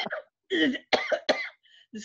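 A person with an allergic cough lets out a short run of harsh, close coughs and throat-clearing bursts, separated by brief pauses.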